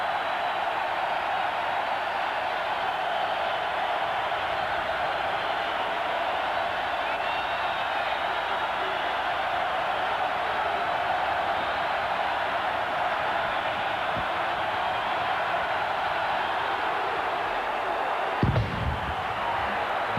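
A stadium crowd of more than 40,000 at Cardinal Stadium during a college football game, Tennessee at Louisville, roars in a steady, dense wash that holds through the whole stretch, with a brief thump near the end.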